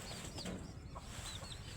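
Chickens cluck softly in a steady background of farmyard noise, with a few short clucks rising over the murmur.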